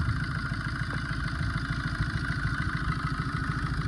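A Tata Zest car engine idles with a worn, shaking condition, giving a steady, loud, close mechanical drone with rhythmic clatter and no voices.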